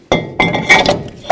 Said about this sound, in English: Now we'll remove the rotor. We'll set that aside.